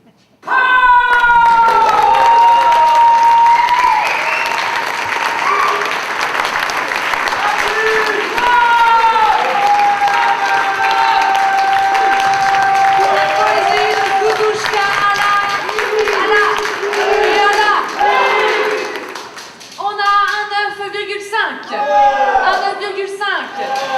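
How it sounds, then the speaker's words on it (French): A slam poetry audience applauds and cheers at length, with whistles and shouts, while a voice speaks over the clapping. The noise dips briefly near the end. "on applaudit la poète"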